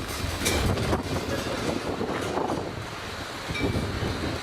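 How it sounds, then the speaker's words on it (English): Steady wind roars and buffets across the microphone throughout, a broad rushing noise with gusty swells and no voices, at a high viewpoint in Bhutan. "It's very windy."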